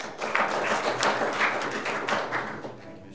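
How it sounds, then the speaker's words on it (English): Canned applause played back at a county budget work session, a steady wash of clapping hands, moderately loud and sustained throughout without a break. "Now the applause sounds canned."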